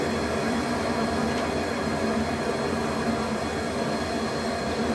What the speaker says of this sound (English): Taxiing to the very end of the runway and off to the right